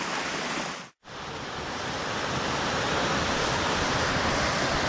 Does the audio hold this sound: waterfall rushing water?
yes